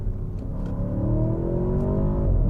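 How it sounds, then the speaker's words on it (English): A throaty V8 engine in a 2022 Audi S8 revs up steadily, its deep rumble rising in pitch and growing louder over a couple of seconds. "But God, you gotta love the sound of a V8."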